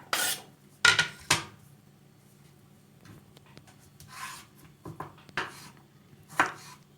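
Knife strokes chop a winter squash into cubes on a cutting board, with a few sharp, separate cuts early on and more scattered chops and scraping rubs later, close and fairly quiet.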